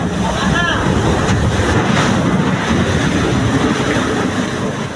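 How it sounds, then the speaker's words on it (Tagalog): Water from a water cannon pours in a loud, continuous roaring rush against a small wooden resupply boat at sea, with wind buffeting the microphone throughout. "rumaragasa sa likod nila ang tubig mula sa water cannon"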